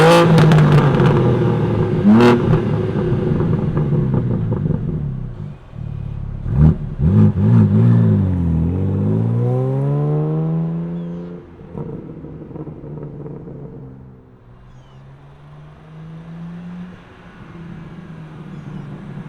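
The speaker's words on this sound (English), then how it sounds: "let's fire this straight 6 twin turbocharged engine up and hear what it sounds like" A 2024 BMW M2's twin-turbo straight-six engine turns over and catches, then revs up several times with rising and falling roars before settling into a deep, steady idle.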